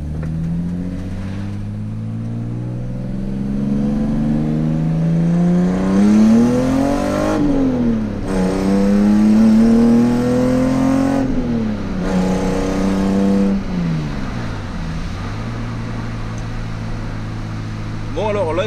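A Toyota Supra's engine revs up and down repeatedly, its exhaust note rising and falling through several throttle blips while people talk.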